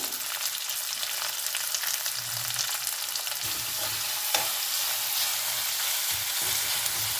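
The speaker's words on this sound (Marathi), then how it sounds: "मोहरी तडतडलेली आहे, त्यामध्ये मी हिरवी मिरची घालत आहे, कांदा घालत आहे, कढीपत्त्याची पानं घालत आहे," Green chili, onion and curry leaves frying in crackled mustard seeds for a South Indian banana flower dish, a steady loud sizzle throughout with light stirring, close up and without talk.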